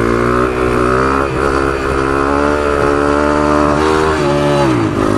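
A CT70 clone minibike with a Piranha 140 engine pulls a second-gear wheelie: a loud, close buzzing engine climbs and falls in pitch with each throttle surge, alone without speech.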